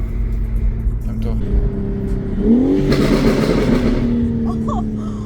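A BMW M4 CSL tuned to 700 hp revs hard on Paris streets, its engine climbing in a sharp rising roar before settling into a loud, rumbling idle, with someone talking excitedly over it.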